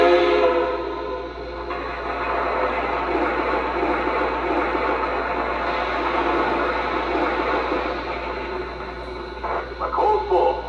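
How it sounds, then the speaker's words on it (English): A Lionel Western Maryland 1309 model steam locomotive plays its sound effect of coal being loaded into the tender: a dense, continuous rattling rush lasting about ten seconds, fairly loud, ending with a few clunks. "coal being added to the tender."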